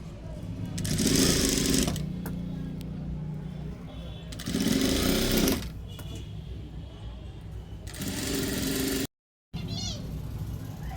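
Sewing machine stitching piping onto a four-tuck blouse in three loud runs of steady mechanical whirring, separated by quieter pauses with faint handling sounds.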